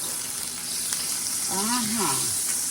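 Butter melting in a hot pan for shrimp scampi, a steady close sizzle throughout, with a voice speaking briefly over it.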